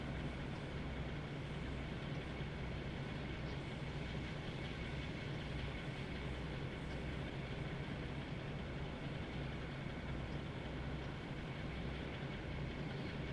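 A GWR Class 52 diesel train in the Train Sim World 2 simulator gives a steady, faint, low rumble and hum, unchanging and without talk throughout.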